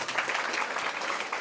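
Audience applause at an Isra Mi'raj religious lecture at an Islamic boarding school, heard as a steady, dense wash of clapping that fills the whole moment without a break and with no voices over it.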